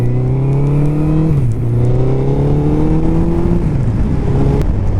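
Suzuki Hayabusa motorcycle ridden after a front tire replacement, engine droning loud and close with rising tones that drop at each gear change, wind noise underneath and no talk.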